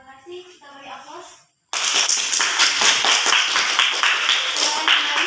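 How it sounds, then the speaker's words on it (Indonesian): Classroom applause for a student presenter, a brief moment of talk, a short silence, then a burst of many hands clapping steadily and fairly close, sustained to the end. "Kita beri aplaus."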